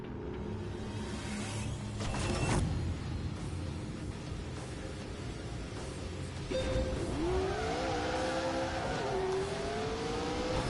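Cars racing in The Grand Tour video game, a continuous engine drone with a rising, shifting rev toward the end and a brief burst midway, moderately loud and steady throughout.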